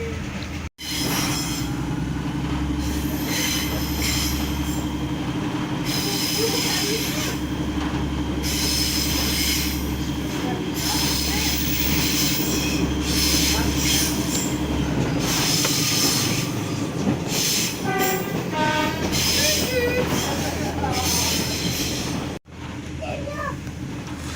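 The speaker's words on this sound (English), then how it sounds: "old railway coach again." An old heritage railway coach on the Weardale Railway rumbles along steadily with rhythmic wheel clatter and occasional squeals, interrupted by brief breaks in the sound.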